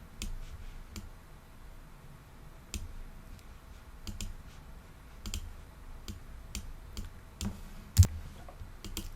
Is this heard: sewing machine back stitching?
no